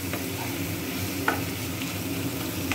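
Crushed whole garam masala spices are stirred into hot oil in a pan, a dense steady sizzle with faint spoon scrapes and one clear tap, heard alone without talk.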